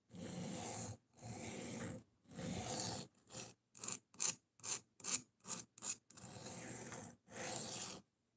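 A knife tip is ground on a 140 grit sanding belt in a series of separate scraping passes, long strokes first, then a run of short quick ones, then long ones again, each with a harsh rasping sound.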